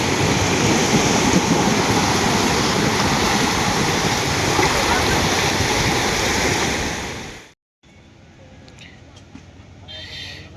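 Ocean waves wash onto the beach at Saint Martin island in a loud, continuous roar mixed with wind buffeting the microphone, then cut to a quieter scene with faint distant surf.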